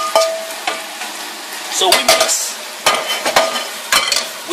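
Rice and meat being stir-fried in oil, with a loud metal utensil scraping and clanking against the pan in uneven strokes over a steady sizzle, close up, and a brief word spoken at the start.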